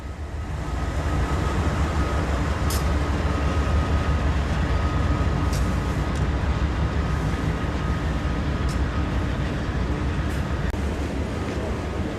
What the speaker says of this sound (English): we catch an eastbound vehicle train heading for Marias Pass